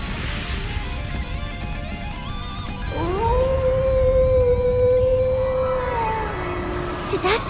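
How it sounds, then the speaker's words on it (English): A wolf's howl in the video game Trails into Reverie rises loud and sustained over a rumbling battle score, holding a long wavering tone for several seconds before dipping away. "Did that howl cancel out the artifact's power?"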